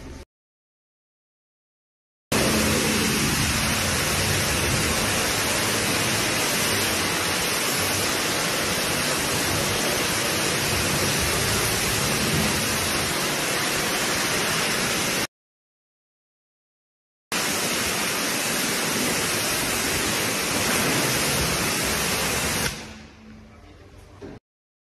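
Water spraying onto a dirty Lexus with 22-inch wheels during a rinse: a loud, steady broadband hiss that runs for long stretches, breaks off briefly, then resumes before fading at the end.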